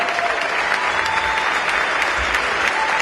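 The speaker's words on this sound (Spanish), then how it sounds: "Aplauso para ella." Applause from the audience at a national broadcasters' meeting in Rosario, a dense steady burst of clapping lasting a few seconds with no talk.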